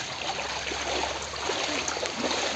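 Floodwater flows into the courtyard of a house in a flood-hit area, a steady broadband rush and trickle with no pauses, moderately loud and continuous throughout.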